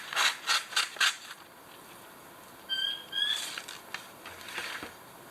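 A knife blade drawn across a carbide sharpener gives a handful of short, close rasping strokes in a quick rhythm, then a pause and a few fainter scrapes.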